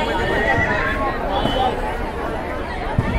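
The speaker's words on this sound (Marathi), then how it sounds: "हा बेसिकली मेकॅनिकल घोडा बनवलेला आहे. घोडा मध्ये मध्ये ओरडते." A mechanical horse sculpture at the Kala Ghoda art festival in Mumbai gives out loud, close whinnying neighs over a busy crowd babble, with hoof-like clip-clop knocks in the mix.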